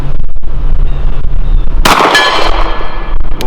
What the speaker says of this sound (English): we're going to try some PMC 200 grain full metal jacket out of this Glock 20 at 50 yards